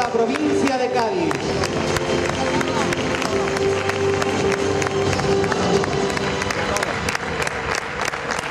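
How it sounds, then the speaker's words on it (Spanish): A live audience at the Mister Cosmos España 2016 pageant applauds the finalists and the winner with dense, continuous clapping and some cheering, mixed with loud music throughout. "fuerte aplauso a los 5 finalistas y a nuestro ganador, a nuestro nuevo Mr. Cosmos España 2016"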